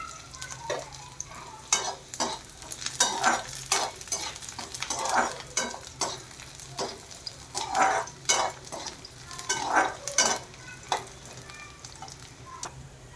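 Onion frying with garlic and garam masala until reddened, a continuous sizzle under frequent rhythmic scrapes and clanks of a spoon stirring the pan.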